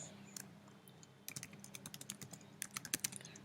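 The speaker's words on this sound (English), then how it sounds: "So I'm going to type in my details," Login details are typed on a computer keyboard, a quiet, close run of quick key clicks in uneven bursts that grow denser toward the end over a low background hum.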